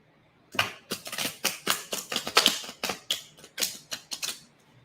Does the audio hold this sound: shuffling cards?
yes